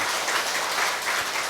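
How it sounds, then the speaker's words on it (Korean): A Korean church group bursts into steady applause after an action song, a dense, continuous wash of many hands clapping at once, fairly loud and sustained. "자 박수"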